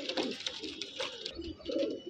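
A pair of purebred pigeons, giribaz or fancy coloured birds, coo close by in several soft, repeated low calls with no talk over them.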